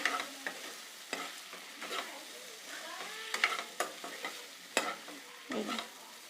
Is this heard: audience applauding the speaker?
no